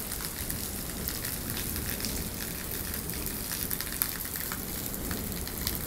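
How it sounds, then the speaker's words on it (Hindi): A steady, dense hiss of heavy rain pours down without a break, with a few sharper drips and patters standing out now and then. "तो आप सुन सकते हैं आवाज़ बारिश की बहुत तगड़ी बारिश हो रही है यहाँ पर"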